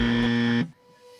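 A quiz-show buzzer sounds during a school quiz round, one loud sustained electronic tone lasting about half a second before cutting off abruptly, followed by quiet room tone.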